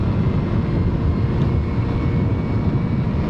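A 2008 Yamaha Zuma scooter's small engine drones steadily while riding around town, a loud, close, low rumble mixed with wind buffeting that continues without a break and without talking.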